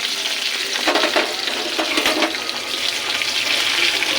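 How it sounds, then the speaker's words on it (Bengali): Sliced onions and slit green chillies frying in hot oil with nigella seeds in a heated wok, a dense steady sizzle with bursts of crackle as they are stirred, close and unaccompanied by talk. "পেঁয়াজটাকে একটু ভেজে নেব।"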